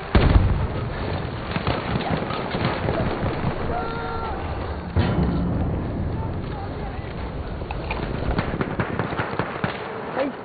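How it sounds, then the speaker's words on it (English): Grenade blast in Battlefield 1 trench combat, a sharp burst followed by crackling, rumbling battle noise that carries on throughout, with speech over it. "Here's a grenade for it."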